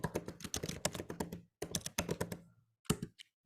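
Rapid close clatter of a computer keyboard while C++ code is entered, a dense burst of keystrokes, a brief pause, another run, then a few sparse final taps.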